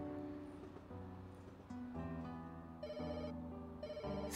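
Telephone ringing in the video game Pets Hotel, a steady electronic ring that keeps going over layered game music and tones, with no one talking.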